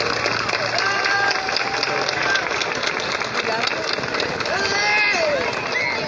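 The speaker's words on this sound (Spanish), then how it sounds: "¡Aplauso fuerte para todos nosotros!" Children at a Flag Day ceremony in Federal clapping and cheering in a dense, continuous crowd roar, with high excited shouts and voices rising over the steady applause.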